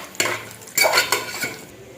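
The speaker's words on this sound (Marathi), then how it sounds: "आता काजू आणि बदाम खोबऱ्याबरोबर आपल्याला थोडंसं 2 मिनिटासाठी परतून घ्यायचंय" Cashews, almonds and coconut are stirred in hot ghee, probably in a pressure cooker, giving a few quick metal-spoon scrapes and clinks against the pan over a soft sizzle, close up and with no talking.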